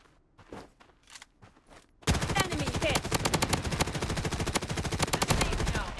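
AK47 fire in the shooter game Blood Strike: a few scattered shots and quiet footsteps, then sustained rapid automatic bursts from about two seconds on, loud and close with no one talking.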